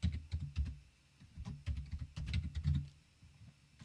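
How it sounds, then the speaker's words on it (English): Slow, uneven typing on a computer keyboard: bursts of clicking keystrokes close to the mic, separated by short pauses, with no one talking. "I'm very slow at typing."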